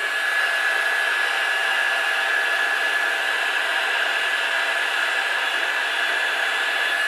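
A heat gun warms a part on a Lambretta TV 175 scooter: a steady, even blowing whir with a faint whine that holds constant throughout, close by and with no talk.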